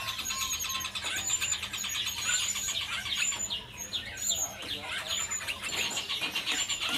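Bright, repeated whistles and chirps of a cucak wilis bird ring out over a busy background of chatter and noise at Pramuka bird market.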